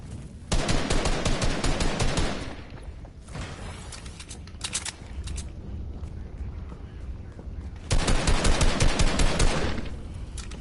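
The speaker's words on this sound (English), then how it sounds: "They were shooting at me and I gotta heal up." Enemy gunfire in a video game, rapid automatic bursts loud at the start and again near the end, with quieter sporadic shots and game noise in between.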